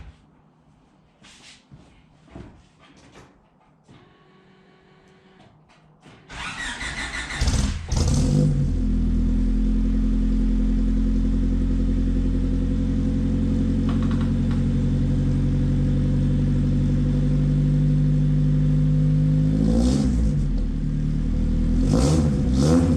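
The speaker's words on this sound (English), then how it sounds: "For all those who want to hear a Honda Mini, it sounds just like a fucking Honda" A VTEC Honda engine fitted in a Mini estate starts after some clicks and knocks, settles into a loud, steady idle, and is then blipped in short revs near the end.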